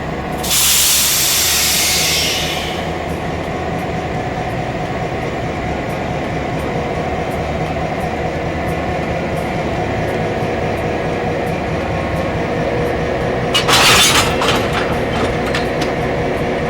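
A Maine Eastern Railroad excursion train rumbles steadily past at close range, with a burst of hissing air at the start and another near the end.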